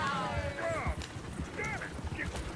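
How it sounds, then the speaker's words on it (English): Horses gallop in the video game Red Dead Redemption 2, rapid hoofbeats drumming steadily while someone shouts over them and another animal call rises briefly. "Oh, shit, the horses! Damn horses!"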